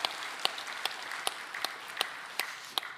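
A church congregation gives a brief burst of applause during a Sunday worship service, a dense wash of clapping with sharp louder claps standing out at an irregular beat, heard from a moderate distance.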